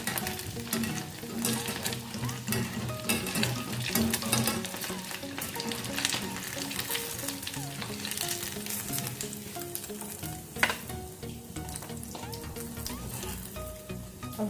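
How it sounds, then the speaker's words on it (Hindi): Potato balls deep-fry in hot oil with a constant dense bubbling sizzle, close and steady throughout, with an occasional faint clink of a utensil. "अब हमारी ये बॉल फ्राई हो चुकी।"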